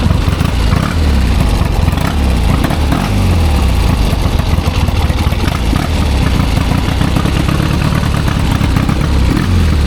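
A 1972 Triumph 650 Bonneville motorcycle engine runs loud and steady throughout, its low rumble swelling and easing with the throttle while riding, with no talking.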